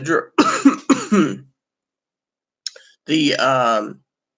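A short dry cough from a man who has gone without tobacco, a few quick harsh bursts close to the microphone, followed by a brief click and then a stretch of voiced sound.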